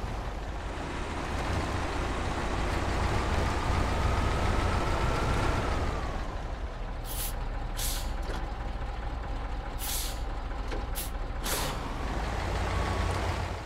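A heavy truck in the video game SnowRunner rumbles with a loud steady engine drone, then several short hissing air-brake bursts follow in the second half.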